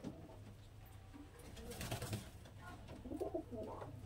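A Giribaj flying pigeon in moult coos faintly and softly a few times. The calls are low and muffled against quiet background noise, with no speech.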